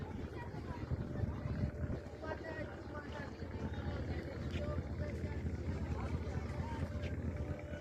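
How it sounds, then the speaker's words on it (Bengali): A passenger launch passes close by, its low engine rumble and drone steady under gusting wind, with someone talking over the noise. "আমার মাথার উপর দিয়ে একটা লঞ্চ চলে যাচ্ছে"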